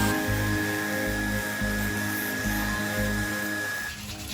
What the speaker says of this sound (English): Sand it smooth, make it look prettier.